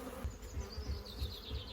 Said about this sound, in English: There's quite a lot of bees around today.